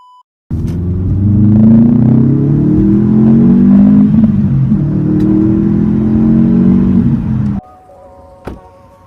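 A Subaru car engine runs loud and steady for about seven seconds with a low droning rumble and slight revving swells, then cuts off abruptly, leaving a quiet interior with a single short click near the end.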